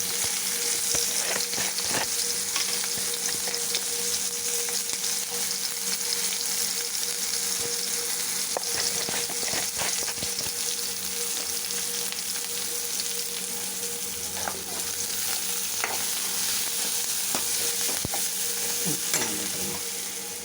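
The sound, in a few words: onions sautéing in a pan with turmeric and salt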